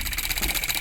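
Small DIY model engine running fast and rhythmically, its governor opening the exhaust valve to stop compression, giving a close, loud, pulsing chug with even rapid beats and no talk.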